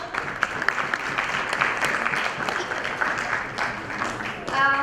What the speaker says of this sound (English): Let's welcome Mr. Neeraj Khanal with a huge round of applause.